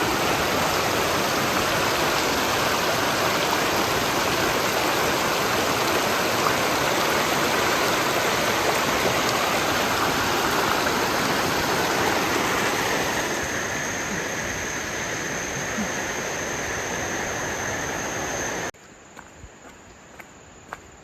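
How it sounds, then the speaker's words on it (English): Continuous rushing of a small waterfall and flowing stream on the Abrams Falls trail in Cades Cove, close and steady, softening slightly before cutting to near quiet with a few light taps. "Little tiny waterfall here."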